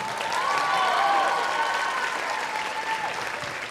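Audience applause and cheering fill a high school jazz band's winter concert hall, a dense, steady wash of clapping with a few whistles or shouts riding on top, loud and sustained throughout before fading slightly.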